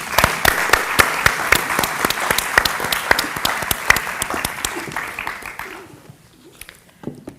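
An audience applauds at a literary reading event in Porto, with sharp individual claps standing out over a dense patter that fades out near the end, leaving a brief quiet tail.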